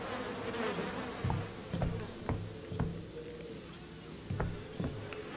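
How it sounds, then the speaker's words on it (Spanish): Flies buzz in the horror video game Outlast 2, a close, continuous insect drone punctuated by sharp, regularly spaced taps or ticks. "Vemos moscas y vemos cómo se las quita."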